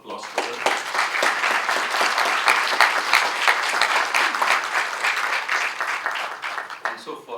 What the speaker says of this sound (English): So I want all of us to give a round of applause for her.